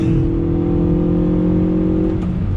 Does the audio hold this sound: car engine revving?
yes